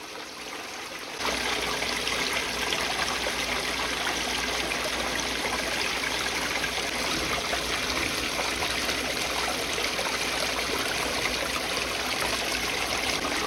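Water pours through a gold sluice box with ripples and a green mat, a steady close rushing and trickling that starts after a short quieter moment and keeps up without voices.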